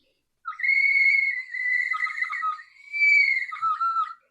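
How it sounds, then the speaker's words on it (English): A Mexican water whistle is blown in long, warbling, bird-like tones, clear and close, with three sustained blasts separated by short pauses, heard alone. "Here's the water thing. It's a whistle."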